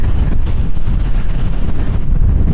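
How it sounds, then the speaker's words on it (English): Strong wind on a Greek beach buffets the microphone, a loud continuous low rumble with gusty roar and no voices. "it is super windy today, so I don't even know if this audio is going to work properly"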